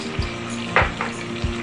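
Steady sizzling of spices frying in a hot pot for chicken curry, with a few scraping stirs breaking through the continuous crackle; no voices.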